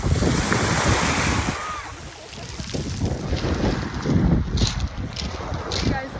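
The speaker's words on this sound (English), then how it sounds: "stony beaches in Albania." Waves wash steadily onto a stony beach in Albania with clear water, a continuous rushing surf close by with gusts of wind buffeting the microphone and a boat's hum in the background.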